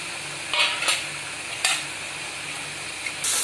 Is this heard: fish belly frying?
yes